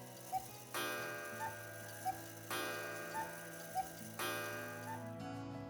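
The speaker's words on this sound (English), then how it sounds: "have you ever heard of cuckoo clocks?" Clock ticking at a steady, even rhythm, with faint chime-like tones marking each tick over a sustained musical background; a cuckoo clock from Germany's Black Forest, heard alone with no talking.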